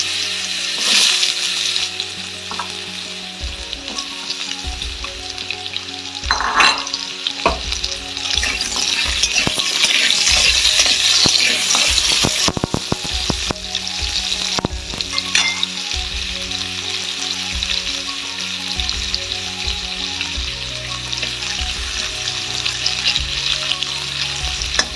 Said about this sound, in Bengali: আলুগুলো এবার আমি ভেজে নেব।